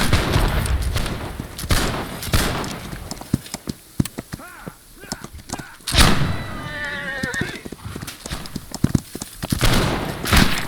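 Musket volleys and cavalry in the Napoleonic-era battle game Holdfast: Nations At War, with sharp scattered gunshots, a dense fusillade and clip-clopping hooves, close and busy, with bits of voice mixed in.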